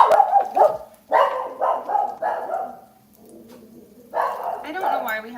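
A pet dog yaps in a quick series of high, sharp barks close by, pausing briefly before another burst, with no talking over it.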